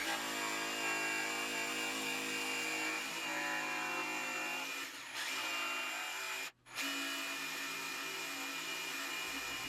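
Jigsaw cutting out the center of a wooden piece for a drop-leaf end table, a loud, steady buzzing whine that dips briefly twice before carrying on close by.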